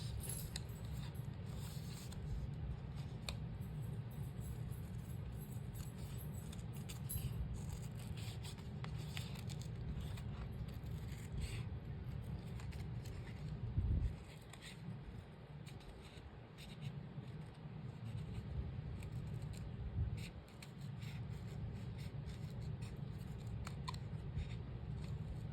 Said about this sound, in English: rather than trying to recut it with the scissors, I'm just going to grab my scissors